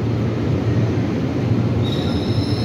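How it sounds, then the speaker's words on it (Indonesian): A commuter train pulls in with steady, loud rumbling and rolling wheels, and a high, sustained wheel squeal rises near the end; no talking. "Kereta yang kita tunggu akhirnya datang juga guys."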